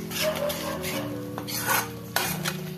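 Ginger garlic paste frying in a pan while a spoon scrapes and stirs it, giving a steady close rasping, rubbing sound over a soft sizzle, with a couple of sharper knocks against the pan.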